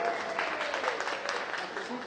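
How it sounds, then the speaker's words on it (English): Audience at a live stage show claps in a brief, steady burst of applause, moderately loud and somewhat roomy, lasting a couple of seconds. "Give a massive round of applause."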